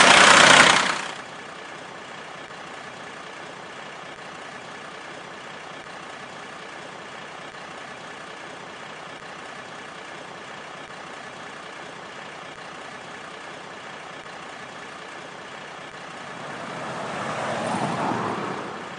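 A junk truck in a children's video game, a steady low engine hum idling along alone, with a louder burst at the very start and a swell near the end.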